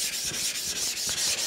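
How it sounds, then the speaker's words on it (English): A Japanese natural sharpening stone rubs on a diamond grit flattening plate in short, rhythmic gritty back-and-forth strokes, close and steady with no voices. "you just let the diamond grit on the plate do its work."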